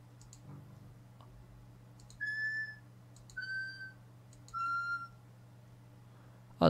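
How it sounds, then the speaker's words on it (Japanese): Hatsune Miku V4X Vocaloid synthesized voice notes play from an on-screen keyboard: three short, faint, evenly spaced tones, each preceded by soft mouse clicks, with a louder click at the end. "鍵盤を押すと音が出ます。"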